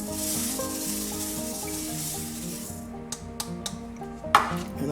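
Rice tossed into hot oil in a pan for shrimp fried rice hisses in a bright sizzle that fades after a few seconds, followed by several sharp clinks of a utensil against the pan.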